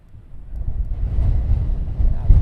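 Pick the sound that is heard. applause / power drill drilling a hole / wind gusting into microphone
wind gusting into microphone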